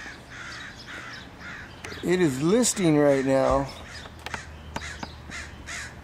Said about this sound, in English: Freaking bird, shut up.